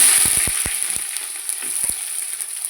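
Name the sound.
spices and onions frying in hot oil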